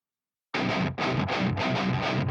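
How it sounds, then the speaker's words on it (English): Soloed rhythm guitars with heavy distortion play in short chugging bursts, loud and dense with no other instruments, starting after a moment of silence. "So let's solo our rhythm guitars."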